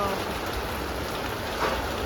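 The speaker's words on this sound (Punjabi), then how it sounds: "ਬਾਹਰ ਮੀਂਹ ਦੇਖੋ ਕਿੰਨਾ ਮੀਂਹ ਪੈ ਰਿਹਾ" Heavy rain pours steadily in a dense, even hiss, with a faint voice briefly audible underneath.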